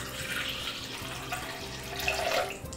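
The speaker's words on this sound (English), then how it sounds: "I'm going to add it to the bowl of a stand mixer" Lukewarm milk and water poured into the bowl of a stand mixer while making Danish morgenboller breakfast rolls, a steady close splashing and running-liquid sound that carries on for a few seconds with no talking.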